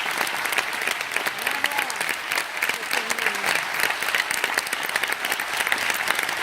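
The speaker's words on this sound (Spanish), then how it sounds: "Se merecen quizá el mayor aplauso de la tarde, todos ellos" Theater audience applauding the stage crew and dressers at a ballet show, dense steady clapping throughout with a faint murmur of crowd voices beneath.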